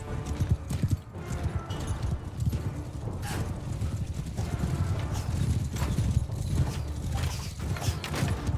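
Horse hooves clip-clopping in the Mount and Blade Bannerlord medieval battle game, a fast, continuous drumming of galloping hoofbeats with creaking tack and clanking gear, loud and close, amid battle din.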